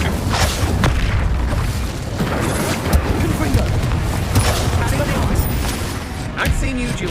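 Fiery spell combat in Hogwarts Legacy, with repeated booming blasts and whooshing bursts of flame layered over a continuous loud rumble, while a voice speaks over the action.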